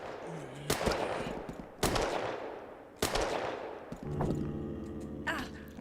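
Gunfire in the zombie shooter Outbreak: The Nightmare Chronicles, three loud sharp shots a second or so apart, each with a long fading tail, followed by a humming, sustained game tone.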